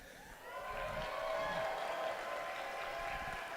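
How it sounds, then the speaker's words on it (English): Crowd at a robotics competition district event in Lakeland cheering and clapping, a soft, fairly distant swell of applause and whoops that rises after a quiet start and holds. "Give a big cheer."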